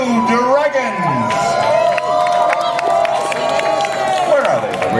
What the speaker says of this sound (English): let's give them a huge, thunderous applause before we begin to party tonight